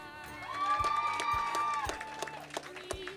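Cheering from a crowd at a Montana FFA state convention for the next Miles City contestant, a shorter burst of shouts and whoops that fades into scattered claps and a few lingering voices.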